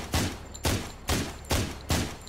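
Five evenly spaced gunshots from a weapon in a VR zombie survival video game, each a sharp loud crack with a short decaying tail, fired about every half second.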